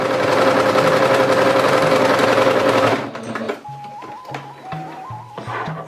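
A sewing machine stitching teepee fabric runs in a steady loud whir for about three seconds, then stops, followed by short on-off bursts of stitching with pauses between them, close up.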